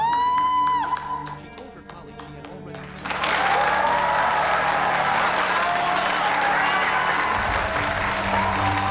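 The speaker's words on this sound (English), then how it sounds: "Just as she took the stage to accept her award, Lisa suddenly began clapping" Loud crowd applause and cheering break out at an award ceremony as an honoree accepts a school's outstanding alumna award, rising suddenly after a music sting and continuing as a sustained roar with whoops.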